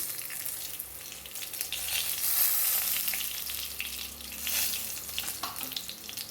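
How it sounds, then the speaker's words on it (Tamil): Cumin and coriander seeds sizzle in hot oil in a kadai, a steady broadband crackle and hiss that swells slightly midway and stays fairly even throughout, with no voices. "கடாயில் எண்ணெய் விட்டுருக்கேன் இப்போ நம்ம கொஞ்சம் சீரகம் போட்டுக்கலாம் சீரகம் பொரிஞ்ச ஒரு நேரத்தில் கொஞ்சம் மல்லி விதைகள் போட்டுக்கலாம்"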